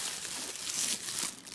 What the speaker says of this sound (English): Plastic comes off fairly easily, that's a plus.